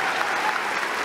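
Audience applause fills a brief moment, steady dense clapping from a crowd at close range with no pauses.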